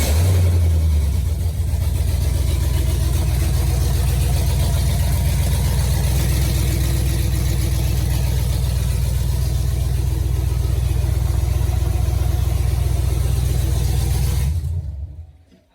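A Chevrolet Tahoe V8 fitted with new Speed Engineering headers rumbles loudly and steadily, holding a deep, continuous idle with slight revving before cutting off abruptly at the end.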